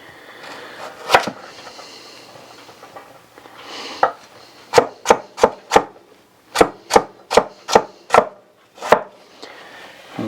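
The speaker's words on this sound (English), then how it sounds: "we'll cut these carrots up in little half moons" A knife chops carrots into half moons on a cutting board, giving about a dozen sharp, close thuds, some in quick even runs and some spaced apart, with no talking.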